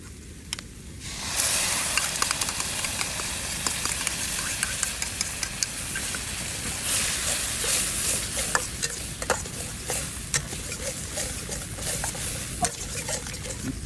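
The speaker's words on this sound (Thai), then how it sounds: "ผัดไปเรื่อย ๆ นี่นะครับ ก็ตอนนี้เขาก็สุกใสแล้วเราจะใส่น้ำซอสลงไป" Shrimp and onion stir-fry in a hot pan while a spatula scrapes and clicks in a steady rhythm over a continuous close sizzle, before sauce goes in for salted-egg-sauce fried shrimp.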